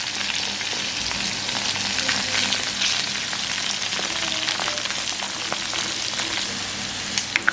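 Squid pieces fry in hot oil with a dense, even sizzle and scattered crackling pops, close and constant throughout, with a few sharper spits toward the end.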